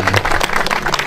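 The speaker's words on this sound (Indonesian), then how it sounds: "Tepuk tangan semuanya." Crowd applause at a public gathering with a governor, dense continuous clapping from many people, loud and close throughout.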